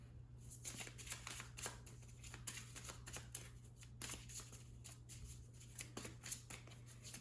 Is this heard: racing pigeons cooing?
no